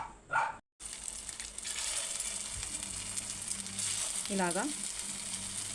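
A small amount of oil sizzles in a hot pan, ready for frying mutton keema in a home kitchen: a steady close crackling hiss, with a brief voice near the start and a short yelping sound partway through.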